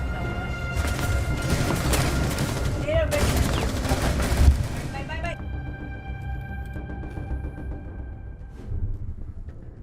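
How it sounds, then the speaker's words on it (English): Gunfire in the video game Rainbow Six: Siege comes as dense, rapid bursts through the first five seconds, then thins to scattered quieter shots, with voices talking over it. "Okay, they're shooting."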